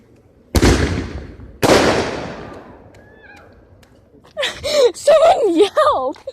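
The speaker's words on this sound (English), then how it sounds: "there's a firework going off over there" Two sharp outdoor firework bangs a second apart, each followed by a decaying crackle and rumble, then a brief whistle and excited voices talking loudly afterward.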